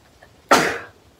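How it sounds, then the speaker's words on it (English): A single sharp human sneeze bursts out close and loud, a brief explosive puff that trails off within about half a second, with no talk around it. "I'm gonna sneeze."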